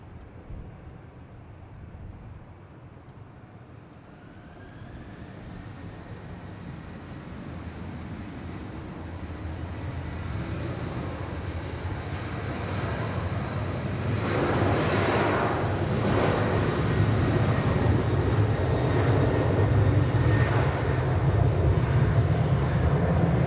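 An Air Europa Boeing 737 takes off at Zurich airport, its jet roar building gradually from a distant whine to a loud, broad rumble that sustains to the end.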